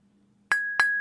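Glasses clink together in a toast, two bright ringing chinks close together that hang with a sustained tone, heard alone in a quiet room.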